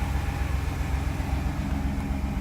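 Mercedes 600SL engine running at high RPM with no throttles fitted: a steady, dense mechanical drone with a strong low rumble that holds even and continuous throughout, close by and without talk.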